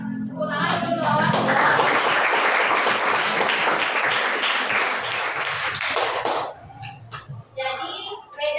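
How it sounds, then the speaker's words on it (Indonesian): Students in a Hindu religion class burst into applause, a dense, loud clapping that holds for about six seconds and then tapers off as a few voices chatter. "Tepuk tangan dulu lawan."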